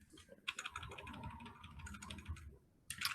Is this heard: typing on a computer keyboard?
yes